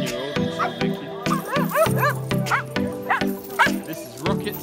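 Sled dogs at a dog sledding outfit near Canmore, Alberta bark, yip and whimper in a rapid, overlapping chorus of high, excited calls, close and loud, with no speech.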